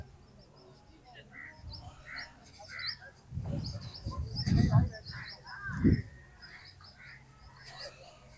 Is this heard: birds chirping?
yes